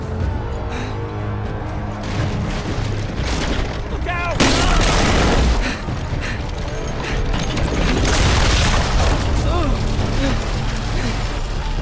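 Gunfire and loud booms from the Game of Thrones video game by Telltale, a dense continuous barrage of shots and impacts with clattering mechanisms throughout, loud and close.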